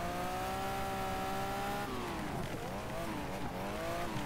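Car sliding with the back end out in the Wreckfest racing game at the Kings Lynn Adrian Flux Arena, a steady loud engine drone with falling and rising pitch sweeps as the car drifts, continuous throughout.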